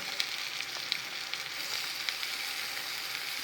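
Onions sizzle steadily in a pan over a raised flame as chopped tomatoes go in, cooking for a Surti cheese paneer ghotala; a continuous close hiss with small crackles and no voices.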